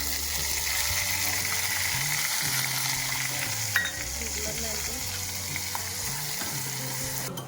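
Masala sautéing in hot oil over a cumin and mustard seed tempering, a constant close sizzle with occasional stirring clinks under quiet background music.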